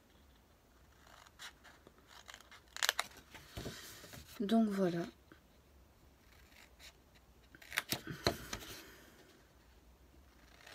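Scissors snip through folded paper while a box for Christmas chocolates is made, a few short crisp cutting bursts in a quiet room, with a brief spoken phrase partway through.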